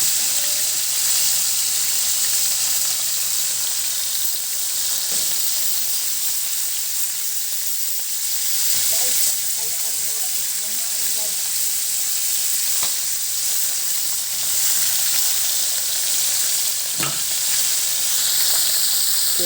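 Fish fries in hot oil with a loud, steady sizzle and hiss, close and continuous, with occasional faint clinks from cooking utensils.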